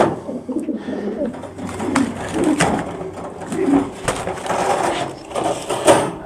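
Pigeons bred for crossbreeding coo steadily and closely throughout, soft throaty calls overlapping with a little rustling and no talk.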